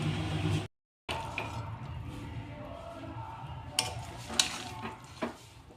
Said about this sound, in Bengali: ভালোভাবে নাড়াচাড়া করে ভেজে নেব